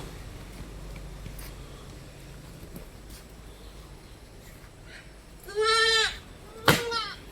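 Young crossbred goat kids give two loud nasal bleats near the end, following a stretch of quiet rustling background.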